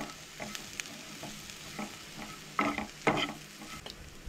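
Prawns for a Goan dry prawn curry fry in a pan with a continuous sizzle, while a spoon stirs and scrapes them in quick, uneven strokes that rise louder near the end.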